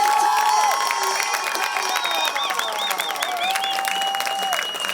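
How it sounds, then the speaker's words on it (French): Crowd applause and cheering for the Italian under-16 team at a European horse-ball championship match, loud sustained clapping with an announcer's amplified voice and whistling tones carrying over it. "faire un tour d'applaudissements pour l'équipe d'Italie"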